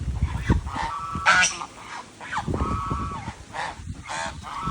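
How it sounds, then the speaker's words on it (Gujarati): Geese honk loudly and close by on a farm field, with repeated harsh calls overlapping in uneven bursts. "તો અહીંયા હંસલા ખેતરમાં ગયા હતા નાવા, નાય અને પોતાનું શરીર સાફ કરે"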